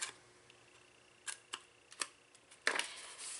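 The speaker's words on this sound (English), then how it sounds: "So I'm going to grab my scissors, and we're going to do a little bit of trimming." Scissors trimming Stampin' Up! designer cardstock for a wallet-style box, giving a few quiet, crisp snips and clicks at uneven intervals in an otherwise hushed room.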